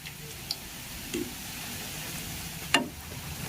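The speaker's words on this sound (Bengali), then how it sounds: "গ্যাসের ফ্লেমটা আমি মিডিয়ামে রেখেছি আর মিডিয়ামে রেখে পিঠাগুলোকে ভেজে নিচ্ছি" Pitha rice cakes frying in oil on a medium gas flame, a soft steady sizzle with a few faint clicks and light utensil taps, fairly quiet throughout.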